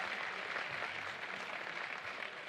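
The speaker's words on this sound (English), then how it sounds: "We'll get some applause from the crowd" A crowd at a FIBA 3x3 World Tour basketball game in Chengdu applauds in a steady, dense wash of clapping that holds evenly throughout.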